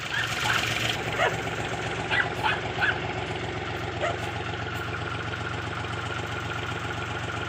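A car engine idles steadily at close range, a low continuous rumble with faint higher clicks and a few brief sounds on top.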